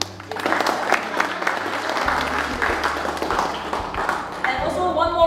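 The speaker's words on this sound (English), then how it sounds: "Please give yourself a big round of applause for being here." Seminar audience in Indonesia giving a round of applause, a brisk crowded clatter of hands over a low electronic hum, with a voice speaking through the clapping near the end.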